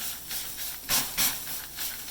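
Two quick bursts of hissing steam erupt close by as water is sprayed into a hot oven for baguettes, short sharp sprays over a low background whoosh.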